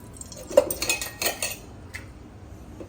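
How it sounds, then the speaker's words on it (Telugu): A kadai pan set down and handled with a few metallic clinks and scrapes, with a faint pour of oil, close and fairly quiet with no talking. "కడాయి తీసుకొని దాంట్లో ఆయిల్ వేసుకోవాలండి"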